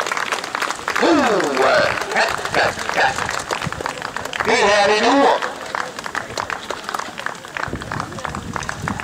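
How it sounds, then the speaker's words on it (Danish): A live audience claps loudly and steadily, with sustained applause swelling under someone speaking and singing-like voice over it. "Giv den da en dejlig klapsalve"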